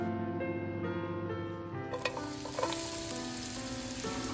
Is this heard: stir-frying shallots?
yes